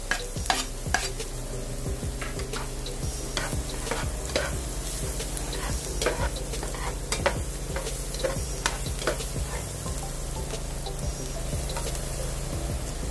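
Garlic sautés in a pan for a creamy chicken mushroom dish, giving a close, steady sizzle broken by repeated utensil clicks and scrapes against the pan; no talking.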